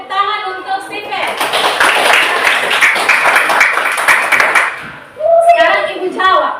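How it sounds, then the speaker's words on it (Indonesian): A classroom of students claps for a classmate, Stephen, in a burst of dense applause lasting about four seconds, with a teacher's voice just before and after. "Kita kasih tepuk tangan untuk Stephen"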